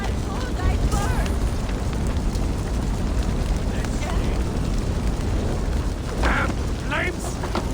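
Flames roar and crackle in Assassin's Creed Valhalla, a loud, continuous rushing burn with sudden flare-ups as voices call out in the scene.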